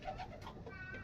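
Pigeons coo softly in a short, faint burst, a few low murmuring calls close together.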